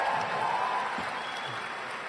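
Applause for the graduating class at a school recognition ceremony, a soft, distant wash of clapping from the audience that holds steady throughout.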